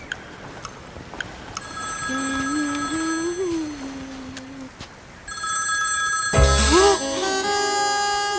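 A telephone rings with steady, bright electronic tones that carry through several seconds, with a louder burst of noise near the end.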